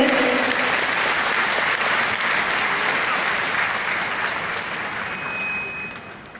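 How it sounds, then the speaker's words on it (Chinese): A large assembly audience at a thanksgiving convention in Taichung gives loud, sustained applause. The dense clapping fills the hall and slowly tapers off toward the end. "让我们再一次热烈掌声，感谢大会"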